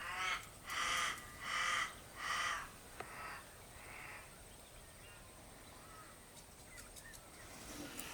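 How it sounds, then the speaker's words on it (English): A crow caws four times in a quick, evenly spaced series, loud and fairly close, followed by a few fainter calls. Behind the calls is steady outdoor background noise at an abandoned old country farm. "that's a crow you can hear"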